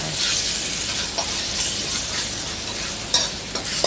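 Pork belly stir-fried with curry paste and fish sauce in a hot pan, a steady loud sizzle with scraping stirs of a utensil throughout, no talking.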